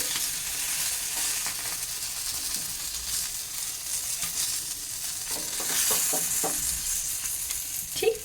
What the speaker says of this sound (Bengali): এই রকমভাবে আমি বাকি এই পাতুরিগুলোকে ভেজে নেব